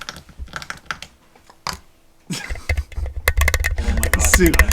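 A pen is clicked over and over in quick, irregular bursts, sparse at first and then denser and louder, while people talk nearby.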